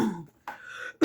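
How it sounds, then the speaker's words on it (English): A woman gives a short throat-clearing cough followed by a brief rough rasp, heard close and alone in a quiet room. "I'm so sorry for my cough."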